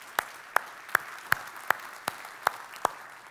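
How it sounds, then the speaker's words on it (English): Sparse, evenly spaced claps at a business leaders' summit, roughly eight crisp individual hand claps in a slow steady rhythm, sounding like one or two people rather than a full audience, close and moderately loud. "So I'd like to give Doug a round of applause."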